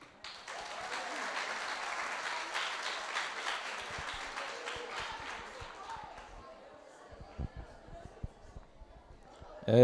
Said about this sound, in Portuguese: vamos acolher com uma salva de palmas o nosso aboiador Alisson